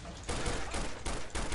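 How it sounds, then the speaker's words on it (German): Bursts of gunfire in the video game Counter-Strike: Condition Zero, several loud shots and short volleys following one another in quick succession over about a second and a half, with no voices. "ein Schuss, ein paar Schüsse, ein paar mehr Schüsse"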